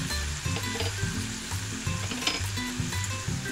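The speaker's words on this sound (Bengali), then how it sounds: "মশলাটা ভালো করে কষিয়ে নিই।" Spice masala for a pomfret fish curry sizzles and fries steadily in a pan, with a rhythmic scraping stir repeating through the whole clip at close range and no talk.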